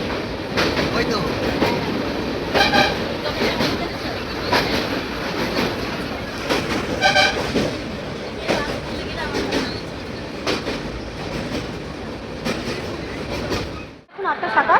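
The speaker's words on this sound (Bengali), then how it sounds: "আমরা এই মুহূর্তে শিয়ালদা স্টেশন নেমে পড়েছি কাঞ্চনকন্যা ট্রেন থেকে" Kanchankanya train running into Sealdah station, with a continuous loud rumble and rhythmic clickety-clack of wheels over rail joints, plus faint squeals, before the sound cuts off abruptly near the end; voices are faintly mixed in.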